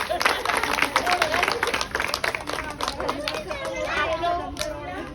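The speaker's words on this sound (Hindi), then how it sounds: "चलो भाई एक ताली बजा दो" A crowd at a political meeting in Indore claps in dense, sustained applause throughout, mixed with voices and children chattering close by.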